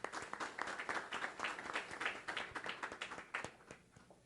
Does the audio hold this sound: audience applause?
yes